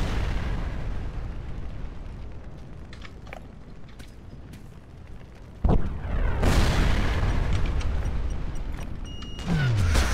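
C4 detonates in the Sniper Ghost Warrior 2 video game: a sudden heavy boom, then a second louder blast that rumbles on with scattered crackles and debris, over a low background din.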